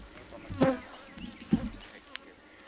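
Honey bees buzzing around an open beehive, a few close buzzing passes over soft outdoor background.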